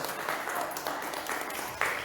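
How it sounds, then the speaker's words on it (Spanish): Church congregation applauding, a dense wash of clapping that lasts the whole moment at moderate volume. "Denle un aplauso grande al Señor"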